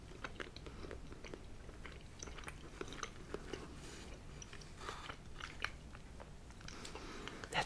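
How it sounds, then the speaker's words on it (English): Soft, close chewing and biting of mochi ice cream, a chewy rice cake shell around ice cream, with quiet moist mouth sounds and small crunches repeating at an irregular pace and no talking. "The ice cream just slips out of the outside rice cake, which is very chewy."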